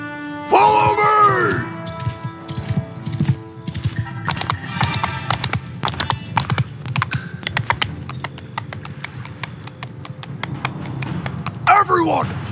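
Cavalry horses gallop in a Mount & Blade II: Bannerlord battle, with steady clip-clop hoofbeats, a loud whinny near the start and another burst near the end, and shouted voices over the top.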